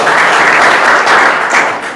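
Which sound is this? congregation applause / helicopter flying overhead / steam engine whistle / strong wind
congregation applause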